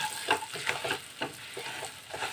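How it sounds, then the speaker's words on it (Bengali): Spices and ginger stirred and sautéed in hot oil in a pan for a Bengali taro-leaf dalna, with a steady soft sizzle and light scraping strokes of the spoon at close range, no voices. "তেলের সাথে মশলাটাকে ভালো করে আমি একটু কষিয়ে নিচ্ছি"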